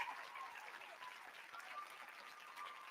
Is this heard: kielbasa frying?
no